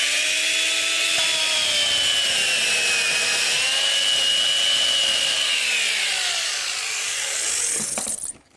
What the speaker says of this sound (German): Wir haben hier auch eine elektrische Säge benutzt